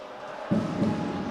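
Basketball fans of both teams in an Italian arena at an Imola versus Ferrara game roar, a broad crowd noise that swells suddenly partway through and holds at a loud, sustained level.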